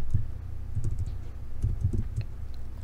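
Keys clacking on a computer keyboard as a short CAD command is typed, with quick, close, fairly quiet clicks in small clusters and no speech.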